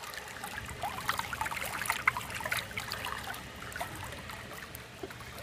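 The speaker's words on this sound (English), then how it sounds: "you just drain the pool water below where the jet stream is coming out" Pool water draining out, a steady trickling, dribbling flow with small splashes, moderately close and alone without any talk.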